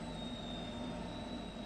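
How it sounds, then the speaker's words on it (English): A train rolling past in the Train Sim World 4 game, a steady low rumble of rail noise with a faint high whine, continuous and fairly quiet. "There goes our train."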